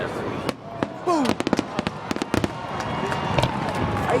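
Fourth of July fireworks at Mt. Trashmore, a string of sharp bangs and crackling bursts, some close and loud, with a crowd murmuring and voices talking underneath.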